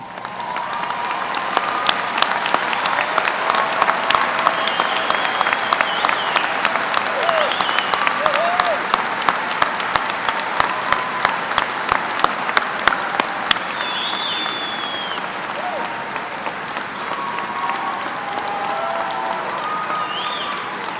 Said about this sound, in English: Will all of today's first-generation college graduates please stand for a special round of applause for